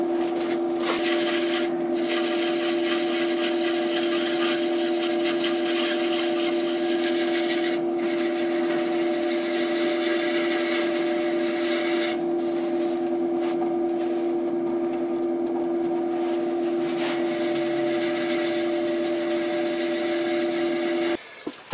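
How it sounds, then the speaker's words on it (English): A wooden ring is sanded by hand through progressively finer grits up to 600, giving a steady, continuous close rubbing and scratching with only brief pauses, over a constant background hum. "so I've sanded that now up to 600 grit"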